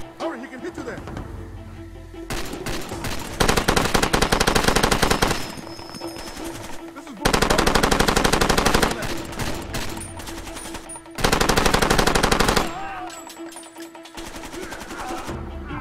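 Long bursts of rapid machine gun fire in the game Far Cry 2 come in three loud, sustained volleys separated by quieter stretches, with a voice talking in between.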